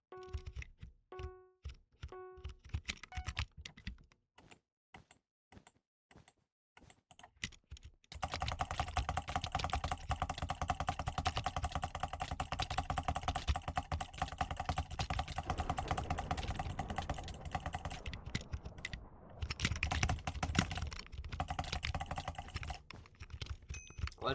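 Typing on a generic gaming keyboard with kickstands: sparse separate keystrokes at first, then a dense, steady run of rapid clacking keys that continues with brief pauses, close and fairly loud.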